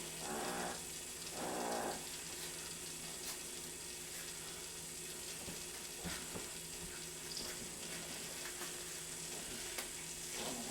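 Steady, quiet sizzling of home-rendered lard heating over medium heat in a frying pan, a soft continuous crackle with occasional faint pops, no voices.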